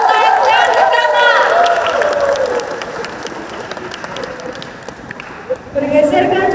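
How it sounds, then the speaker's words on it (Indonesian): Audience applause at an academic theatre staging, a steady wash of clapping from a crowd while a voice speaks loudly over it, fading somewhat before swelling again at the end. "Sekali lagi berikan tepuk tangan yang paling meriah untuk pemadukan yang pertama."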